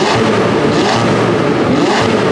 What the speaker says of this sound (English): This is my exhaust.